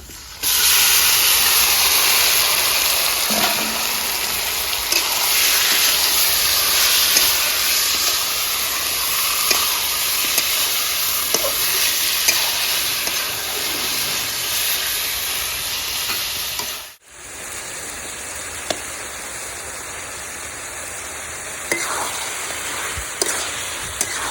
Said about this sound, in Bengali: ম্যারিনেট করা চিকেনটা দিয়ে দেবো